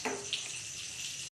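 Water poured into a cooking pot with sesame seeds, a bright steady splashing stream lasting about a second before cutting off abruptly.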